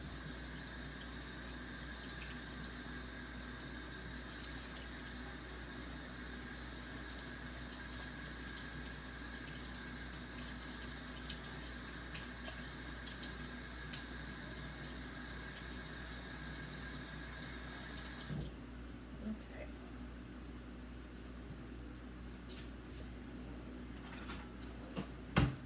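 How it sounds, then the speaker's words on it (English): Steady running water from a kitchen sink tap while hands are washed during scone baking, a continuous rushing hiss that stops near the end, followed by a few faint clinks. "I'm gonna wash my hands real fast."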